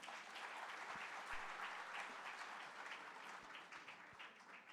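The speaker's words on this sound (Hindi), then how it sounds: "सबसे पहले मैं आपसे चाहूंगा कि एक जोरदार ताली हमारे पैनल के लिए।" Steady applause from an audience welcoming a skills and education panel at a youth conference, dense continuous clapping from many people heard at moderate distance with no talking over it.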